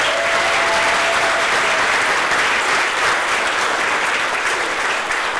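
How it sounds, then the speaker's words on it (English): A crowd of attendees at a college employee awards ceremony applauds steadily, dense and loud clapping that holds without a break throughout. "Yes, give her a round of applause."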